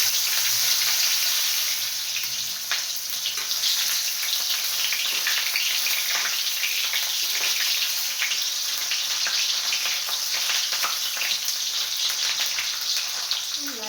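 Bombil fish (Bombay duck) frying in a pan makes a dense, continuous hiss and crackle, close and fairly loud, holding steady for the whole stretch with no talking.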